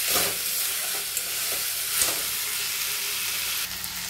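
Prawns cooked with elephant foot yam sizzle steadily in a pan while being stirred, a constant frying hiss broken by soft scraping clinks from the spoon.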